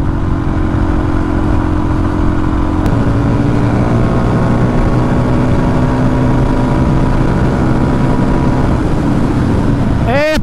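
A Suzuki DRZ400 motorcycle engine runs steadily and loudly throughout a ride, its pitch shifting slightly partway through, with wind roar over the mic and a brief rising rev near the end.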